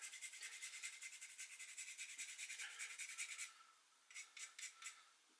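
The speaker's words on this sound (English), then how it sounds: "The only other thing I want to put in there now is a little scraping of nutmeg." Nutmeg is grated over cauliflower cheese sauce in quick, regular rasping strokes, close and soft. After a short pause come three more brief scrapes.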